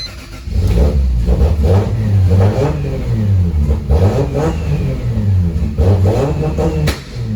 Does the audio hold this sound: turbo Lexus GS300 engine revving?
yes